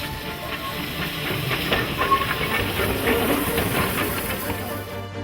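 Steady broadband hiss of steam from a 2-foot gauge Garrett locomotive on South Africa's Avontuur line, continuous and fairly loud with faint mechanical clanks beneath, no voices.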